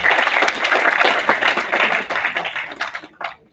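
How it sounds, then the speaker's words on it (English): An audience at a corporate stage event claps in a short, brisk round of applause that thins into a few scattered claps before fading out. "A big round of applause,"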